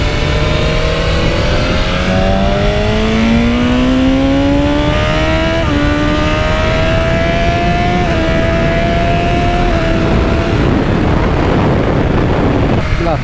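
A loud 1000cc BMW or Yamaha motorcycle engine revs and climbs through its gears at speed on a race track, pitch rising in steps over a constant rush of wind noise.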